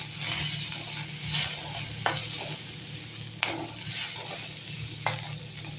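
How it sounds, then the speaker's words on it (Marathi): Ginger and garlic roasting in a little oil in a pan, a soft, steady sizzle broken by intermittent scraping stirs and occasional utensil clicks, close by with no talking. "यातच आपल्याला थोडंसं भाजून घ्यायचं थोडंसं तेल घातलं"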